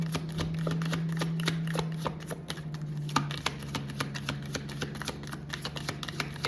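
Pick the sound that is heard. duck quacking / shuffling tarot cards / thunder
shuffling tarot cards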